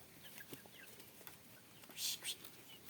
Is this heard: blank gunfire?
no